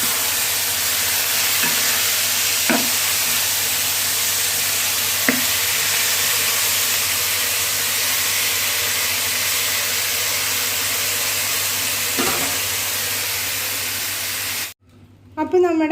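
Beef curry sizzles steadily in a pan over a wood-fired stove, a constant broadband frying hiss with a few soft stirring scrapes, ending in a sudden cut near the close.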